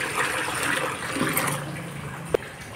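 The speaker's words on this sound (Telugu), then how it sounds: "టబ్లో టబ్ నిండా వాటర్ పోసుకుందాం ఇప్పుడు" Water pours into a tub meant for growing a lotus plant. A short, steady gushing rush runs close up and ends with a sharp click near the end.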